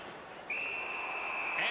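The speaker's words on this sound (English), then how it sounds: "the referee's whistle has stopped play" A referee's whistle at an ice hockey game between Seattle and Vegas sounds one long, steady, shrill blast that stops play, loud and clear over the arena crowd's noise.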